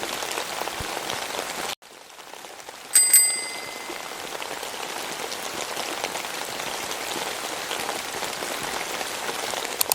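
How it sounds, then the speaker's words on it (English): Steady rain pattering in the Toca Life World video game, a continuous hiss throughout, briefly cut out near the start, with a single bicycle bell ring partway through. "It's still raining a lot"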